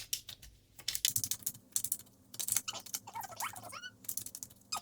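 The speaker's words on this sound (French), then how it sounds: "Je mélange bien les cartes." Tarot cards being shuffled by hand make rapid, close, crisp flicks and papery clicks in quick irregular bursts, with soft rustling between, in a quiet room.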